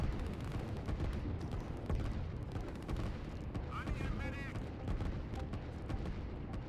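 A factory blows up in the video game Line War, heard as dull booms and crackling blasts amid a dense, continuous wash of in-game battle noise, with a few faint tonal chirps partway through.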